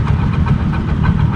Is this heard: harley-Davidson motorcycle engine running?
yes